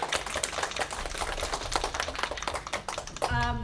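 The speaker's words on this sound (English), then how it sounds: "I think round of applause" A room of overseas students applauds after a class presentation, with brisk, dense clapping close by that swells toward the end.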